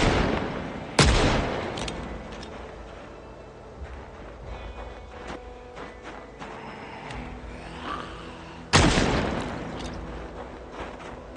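Two loud .357 revolver shots in the Project Zomboid video game, one near the start and one near the end, each with a sharp crack and a decaying tail over quiet ambient background.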